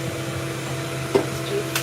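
Pet grooming dryer blowing steadily on a Persian cat during finishing, a constant whooshing motor hum with a brief knock partway through.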